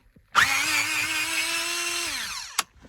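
A power driver with a Torx T20 bit spins out a screw holding a Mercedes R-Class radio, one close, high whirring burst of about two seconds that winds down, ending in a sharp click.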